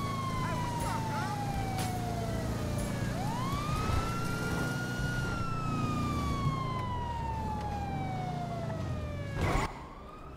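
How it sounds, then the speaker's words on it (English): Police cruiser siren in GTA 5 Online, a loud wailing tone sweeping slowly down and back up over a steady engine rumble, with a brief burst of noise near the end. "Didn't you listen to the siren,"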